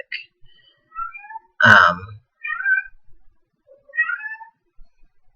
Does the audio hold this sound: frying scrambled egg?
no